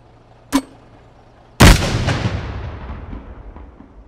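Two loud nearby explosions in an Unreal Engine 5 game audio demo: a short sharp blast, then about a second later a heavier boom that rolls and decays over several seconds, with no talk.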